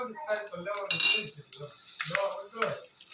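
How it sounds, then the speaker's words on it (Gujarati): Cumin and mustard seeds tempering in hot oil, crackling and popping in quick bursts with a sizzle and spoon scrapes against the pot, close and fairly loud with no talk over it. "આપણે તેલ આવી ગયું અને જીરું અને રાઈ નાખી દીધું છે હવે આપણે હિંગ નાખીશું"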